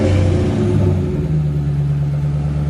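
A car engine runs steady and loud up close, a deep rumbling idle with a slight rev, its throaty tone like a Mustang's.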